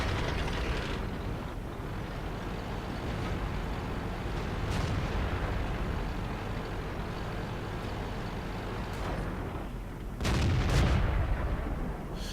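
Tank cannon fire and rumbling engine noise in a tank video game, a dense continuous roar of battle with a heavy boom near the end, firing an APCR shell at a KV-1S.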